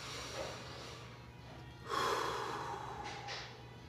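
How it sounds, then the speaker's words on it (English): A single deep breath, drawn in audibly and let out with a soft sigh, fairly close but quiet against faint background hum, with a smaller exhale trailing after. "take a quick moment and just take a deep breath real quick"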